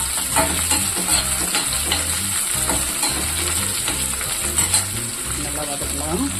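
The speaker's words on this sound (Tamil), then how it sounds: "நல்லா வதக்கலாம்." Onion and green chillies sautéing in a pan, a steady sizzle with rhythmic scraping and stirring of a utensil against the pan throughout, close and fairly loud.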